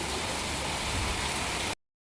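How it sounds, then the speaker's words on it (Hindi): Heavy, fat raindrops pour down outdoors in a steady, dense hiss that is loud and close, with no talking, and it cuts off abruptly after under two seconds. "कितनी सुंदर बारिश हो रही है"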